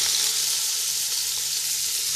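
Onions fry in hot oil in a pot, giving a steady, close, bright sizzle that stays even from start to finish with no voices.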